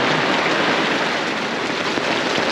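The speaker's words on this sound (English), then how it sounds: "Oh yeah, it's really raining now." Heavy monsoon rain pours off an RV awning at base camp, a loud, steady broadband hiss of water with no breaks and no talking.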